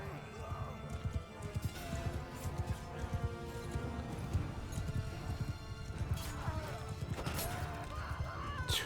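Rapid, steady clip-clop of galloping horse hooves in the medieval battle game Mount & Blade 2 Bannerlord, a continuous rhythmic drumming with occasional clashes and game noise layered over it.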